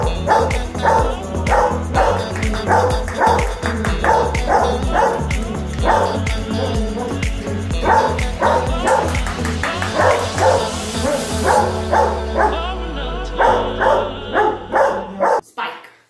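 A very lively, hyperactive Pastore del Lagorai dog barks loudly and repeatedly in quick, steady bursts close by, with a few higher yips near the end.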